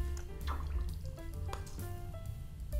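Small amount of water poured into a toy baby bottle for a Hatchimals Alive egg carton toy, heard as close, soft dripping and squishing liquid sounds with short trickles, no talking.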